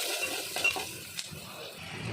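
Garlic, onion and turmeric powder being stirred and sautéed in oil for a bitter gourd tamarind dish, a faint sizzle under soft scraping and a few light clinks of a spoon against the pan, with no voices.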